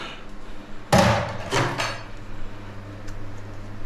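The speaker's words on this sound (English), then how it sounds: "Sharp little chisel." Sharp chisel striking inside a sailing boat's shower pan: three loud close impacts at about one-second intervals, with a low rumbling tail, then quiet.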